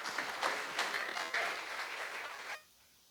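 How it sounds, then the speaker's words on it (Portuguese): Church congregation applauding during a Portuguese-language evangelical service, a dense steady patter of many hands with a few louder bursts, cutting off abruptly near the end into quiet. "aplauda ao Senhor em nome de Jesus Cristo"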